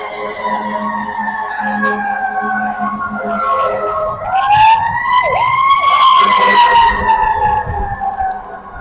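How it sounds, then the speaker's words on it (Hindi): A fire engine siren wails loudly and close in a city street, its tone rising and falling steadily before shifting into a faster yelp, with traffic rumbling underneath. "हर वक्त ही ये इसका सायरन चलता रहता है और ये अक्सर फायर ब्रिगेड की गाड़ियां होती"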